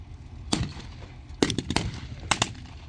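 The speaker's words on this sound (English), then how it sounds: "They've got a secret artillery position." Artillery fire strikes a Matilda tank during a battle reenactment: several sharp, fairly distant bangs arrive in irregular clusters, some closely paired, over a low background rumble.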